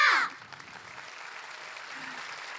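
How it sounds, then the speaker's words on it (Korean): An audience applauds at the 31st Day of the Sea ceremony in Busan. A loud burst of clapping opens and quickly fades into a low, hushed hall murmur. "여러분 다시 한번 박수 부탁드립니다"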